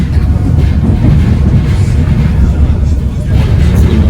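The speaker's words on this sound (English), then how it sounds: "this is a fully operational narrow gauge railroad" Loud, steady low rumble of a narrow gauge train rolling along the rails in Alaska, with a continuous heavy drone and some clatter throughout.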